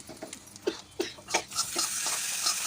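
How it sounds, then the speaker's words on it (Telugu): Tempering spices for a nalleru curry hit hot oil with a few crackling pops, then the sound swells into a bright, steady sizzle, close by. "చూసారా ఇలా ఎగిపోయాక మనం తాలింపు వేసుకోవాలండి."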